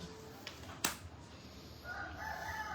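A rooster crows a few times at a distance against a quiet outdoor backdrop, with a sharp knock partway through and a rising, drawn-out call near the end.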